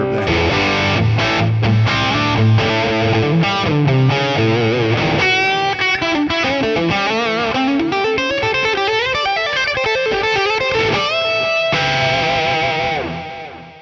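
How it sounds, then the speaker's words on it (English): An electric guitar runs through a Two Notes Genome amp-simulation rig with heavy compression and reverb, playing sustained chords and then a run of melodic notes, loud and alone, with a long reverb tail fading at the end. "More compression and reverb there."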